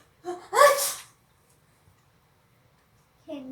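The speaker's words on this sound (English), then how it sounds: "Can you stop sneezing on me?" A single sharp, breathy sneeze bursts out close by, followed by near silence and then a short stretch of a voice speaking.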